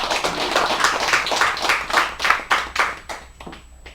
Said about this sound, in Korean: 여러분 모두 박수 환영해 주시겠습니다